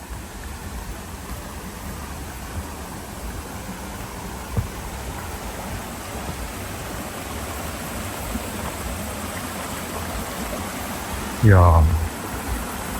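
A steady wash of flowing water from a mountain valley stream along a forest trail near Buram-san in Seoul, continuous and moderately close, with a brief exclamation from a voice near the end.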